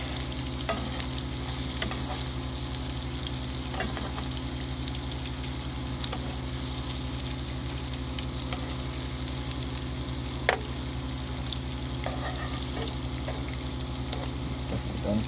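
Breaded, rehydrated freeze-dried pork loin fries in a pan with a steady, close sizzle and crackle throughout, broken by a few faint clicks and one sharp tap near the end, with no talking.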